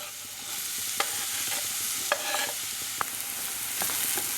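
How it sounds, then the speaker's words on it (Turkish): Onion sizzles steadily in olive oil as it is stirred in a pan, with a few sharp scraping clicks of a utensil against the pan. "bir tane kuru soğanı, 2 yemek kaşığı zeytinyağında bakın kavuruyorum"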